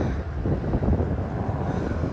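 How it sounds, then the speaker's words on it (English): A fixed-wing airplane passes overhead above the Las Vegas Strip, a low broad roaring rumble with wind buffeting the microphone and no talking. "Oh, there's a plane as I'm doing a video."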